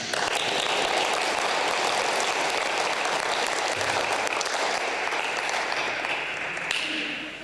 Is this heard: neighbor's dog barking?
no